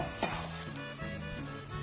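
Roasted cashews and raisins are stirred into a mixture in a pan for a Kerala evening snack, giving a soft, faint scraping and light sizzle with a brief utensil clink near the start.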